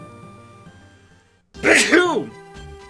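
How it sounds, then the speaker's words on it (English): A single sharp sneeze bursts out after a moment of quiet, loud and close, with faint background tones before it. "Sneeze."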